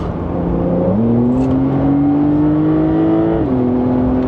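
A Porsche 992 GTS engine in sport mode gives a throttle blip, a loud, close steady drone that rises in pitch, holds, then drops slightly near the end, with no talk over it.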